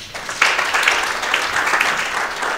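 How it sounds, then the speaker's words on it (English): An audience at an executive dialogue event gives a round of applause, with dense, even clapping from many hands that holds steady throughout, loud and close, with no voices over it. "round of applause for that"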